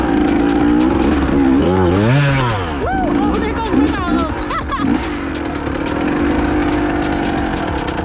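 A dirt bike engine revs hard on a trail, loud and close, with rising and falling pitch sweeps as the throttle is worked, then settles into a steady rough drone.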